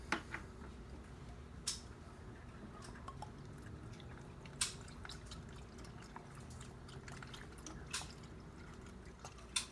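Oil and other fluids drain from a car during an oil change, giving faint, irregular drips and small splashes against a quiet background hum, with no talk.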